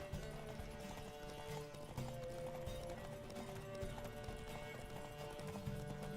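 Horse hooves clip-clop at a gallop during a race in The Witcher 3, a steady rapid drumming kept up throughout alongside game music and effects, with a brief whinny possible.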